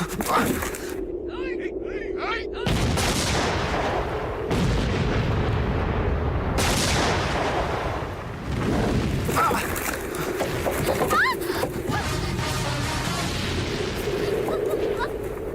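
Heavy booms and rumbling blasts of bomb explosions fill a Telugu movie comedy scene from Sainikudu, dense and continuous over the whole stretch, with voices talking and shouting throughout.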